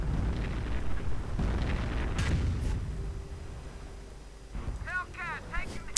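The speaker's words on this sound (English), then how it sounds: "Artillery going in and knocking out the last Nebelwerfer." Artillery explosions in a World War II strategy game come as rumbling blasts with a heavy low-end roll, followed by a few sharp bursts near the end, all beneath ongoing battle noise.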